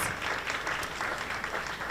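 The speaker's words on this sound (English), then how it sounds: "Let's give one more round of applause for New York Mayor Eric Adams." An audience applauds New York Mayor Eric Adams at the Jamaica 60 media launch, a brief, even burst of clapping heard alone and moderately distant.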